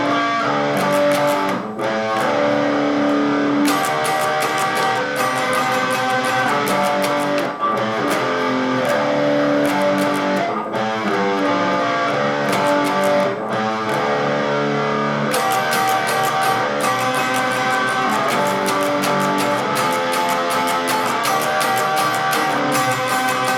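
Distorted electric guitar strums the chorus of a song, with chords hit repeatedly in a steady rhythm and brief pauses between phrases, played alone and up close.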